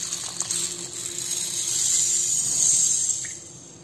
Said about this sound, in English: So now I'll add the cleaner water into this container.